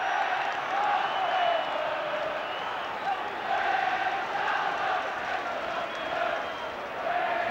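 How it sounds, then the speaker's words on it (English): Football crowd at Molineux stadium during a 1972 UEFA Cup Final first leg between Wolves and Tottenham, a dense, continuous roar of massed voices swelling and easing throughout, heard from a distance. "Listen to the Molineux crowd."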